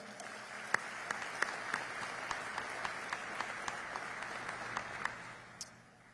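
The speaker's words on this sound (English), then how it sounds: "Let's have a good round of applause for them." A banquet audience at a Hall of Fame dinner applauds high school students who ran the cameras and controls, with a thin, scattered round of individual claps at a fairly low level that tapers off near the end.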